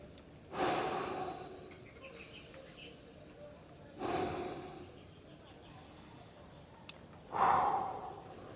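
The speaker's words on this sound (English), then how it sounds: "So just take some nice deep breaths" Three slow, deep breaths taken during a lower-body hip and hamstring stretching routine, each a long airy exhale spaced a few seconds apart, close and fairly soft over quiet background.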